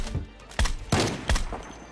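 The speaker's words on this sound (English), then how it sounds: "Okay, I like this shotgun." A shotgun firing in Project Zomboid, three loud, close blasts spaced under half a second apart, each followed by a short ringing tail.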